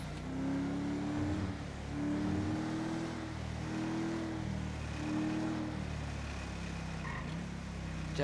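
A car engine in GTA 5 revs up repeatedly in a rising, falling pattern, a moderately quiet steady drone with several distinct climbs in pitch, heard alone without talk.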